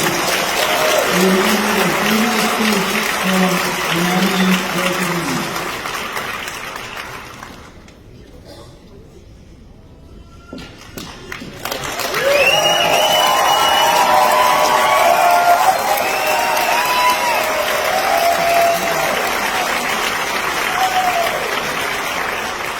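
A large crowd at a political party nomination event bursts into sustained applause and cheering, loud and dense at first, fading to near quiet, then swelling again with more clapping and whoops.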